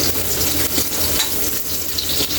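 Onions frying in a pan as the base for pork dinuguan, a dense, even sizzle close by with faint scraping, continuous and without talk.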